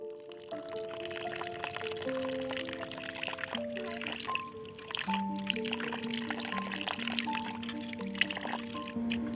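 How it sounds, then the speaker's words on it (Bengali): Rohu fish pieces rinsed under water from a tube well, a continuous pouring and splashing stream with steady tonal ringing over it. "টাইম কলে যেহেতু জল ছিল তো ভাবলাম যে টাইম কলের থেকেই মাছ কটা ধুয়ে ফেলি"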